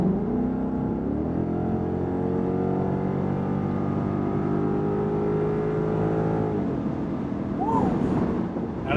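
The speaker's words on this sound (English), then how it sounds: "All right, gonna go full throttle on it." A 2015-2017 Mustang GT V8 with a Corsa Sport exhaust revs at full throttle, a loud, steady rising growl held for several seconds before it cuts off abruptly, leaving a faint idle.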